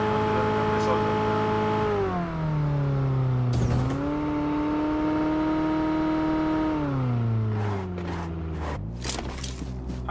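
A McLaren-skinned car in PUBG Mobile, its engine droning steadily and rising and falling in pitch as it revs and shifts, loud and continuous with a few footstep-like clicks near the end.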